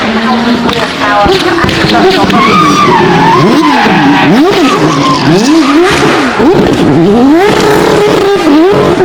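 Race cars drifting at the Goodwood Festival of Speed hillclimb, loud engines sweeping up and down through repeated wavering revs, with tire squeal and skidding running continuously throughout; crowd noise or voices sit faintly underneath.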